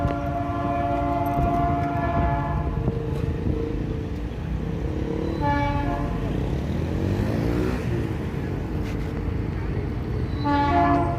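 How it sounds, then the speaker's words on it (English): A passing train rumbles loudly and continuously close by while its horn blows a long blast, then sounds again twice later. "I turned around and I hear the horn of the train"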